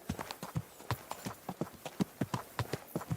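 Horse hooves clip-clopping steadily in the video game Kingdom Come: Deliverance II, a close, even walking rhythm of hollow knocks with faint background sound.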